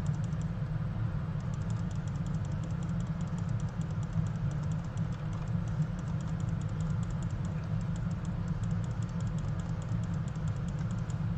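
Rapid, constant clicking runs through a clicker video game while a steady low engine-like drone from the game hums underneath; no one speaks.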